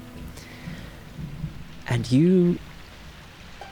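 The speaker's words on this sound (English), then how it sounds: "Rain lashes against the window, lightning cracks through the city." A stormy night over a city brings a soft, steady wash of rain with low rumbling thunder in the background, and a voice speaks briefly over it.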